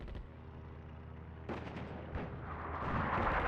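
Artillery fire in the Attack at Dawn North Africa strategy game: a heavy boom arrives about midway and a second blast follows soon after, both rolling into a rising rumble over steady battlefield noise.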